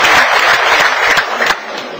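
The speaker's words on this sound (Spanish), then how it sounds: "Un aplauso para los cubanos." Live audience applause for the Cubans at a Spanish-language comedy show, a loud burst of dense clapping that fades slightly toward the end.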